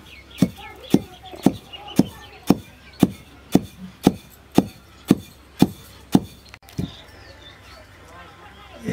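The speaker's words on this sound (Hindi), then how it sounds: "जो मोटा रहेगा उसको छान के फिर दोबारा हम इमाम दस्ते में कूट देंगे।" Mustard seeds pounded with a pestle in a mortar for chili pickle, about a dozen sharp, evenly spaced thuds at a steady rhythm, close and loud, stopping near the end with a quieter tap or two.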